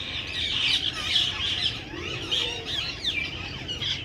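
Several parrots perched in a jamun tree in a Botad village chatter and call repeatedly, shrill chirps and squawks overlapping continuously at moderate distance over a faint outdoor background.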